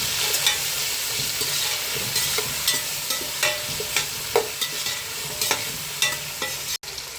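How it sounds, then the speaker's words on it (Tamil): Onions and vegetables frying in a pan for cucumber sambar are stirred, a steady sizzle broken by repeated scraping strokes of the spoon, close and fairly loud with no voices. "இப்போ கிண்டி விட்டுக்கலாம் எல்லாத்தையும்."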